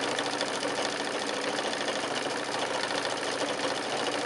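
A sewing machine stitches a quilted table runner in a steady, continuous whir with fast even needle pulses, close and fairly quiet, running alone without a break.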